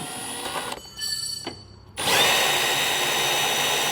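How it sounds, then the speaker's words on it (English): A power drill boring a hole with a 1/2-inch bit while fitting a Roadmaster Direct-Connect base plate kit, a brief start, a pause, then a steady loud whining grind close by. "grab a 1/2-inch drill bit"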